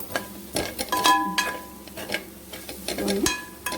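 Chikudukaya broad beans fry in a pan and are stirred with a utensil, giving scraping clinks and soft sizzling in irregular bursts close up, with no talking.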